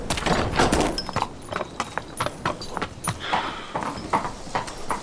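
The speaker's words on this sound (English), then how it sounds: "And that's a fine horse." Hooves clip-clop steadily on a hard floor as a horse is led into the stables on a stormy night, close and fairly loud, with faint movement noises between the steps.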